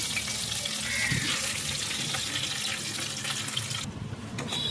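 Ground spice paste dropped into hot oil in a home kitchen pan, a loud steady hiss and crackle of sizzling that runs continuously and eases slightly near the end.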